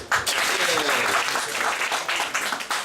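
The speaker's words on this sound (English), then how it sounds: "And the third applause." A crowd claps steadily throughout, with voices mixed into the dense applause.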